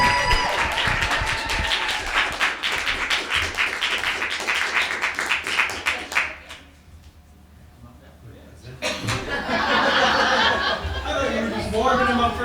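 An audience bursts into applause with cheers and some laughter for about six seconds, drops to a hushed pause, then swells again into loud clapping and crowd noise.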